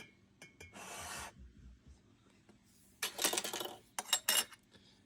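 Metal canning lids go onto quart jars of ham stock, sharp clinks and scraping rattles in a few close bursts separated by quiet gaps, with no talking.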